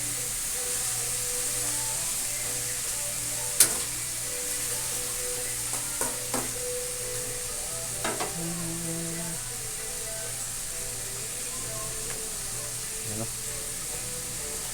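Bitter gourd and sotanghon glass noodles are stir-fried in a pan, giving a soft, steady sizzle with a few clinks and scrapes of the utensil while someone talks quietly.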